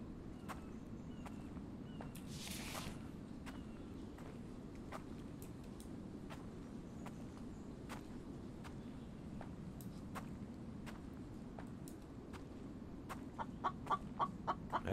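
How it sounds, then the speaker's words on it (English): Chicken clucking inside the video game The Infected, faint, scattered short clucks and clicks spread across a low ambient drone, growing into a quicker run of clucks near the end, with no talking. "I hear you, chicken."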